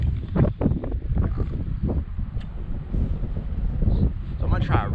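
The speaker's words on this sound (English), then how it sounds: "That wind especially has really picked up." Strong wind gusting on a river near a dam, a loud rough rumble buffeting the microphone continuously, with someone talking briefly over it.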